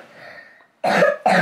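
A child coughs in a home setting: a soft raspy breath, then two loud harsh coughs in quick succession, close to the microphone.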